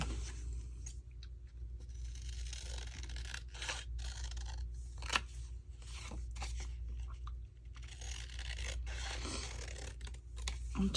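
Paper ephemera being trimmed down to size for a sewing journal, with scattered short crisp snips and cuts over a steady low background hum, close and fairly quiet, without talking.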